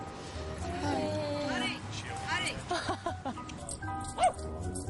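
Small dogs barking and yipping on a New York street, a few sharp yips and whimpering barks rising over people talking and laughing nearby.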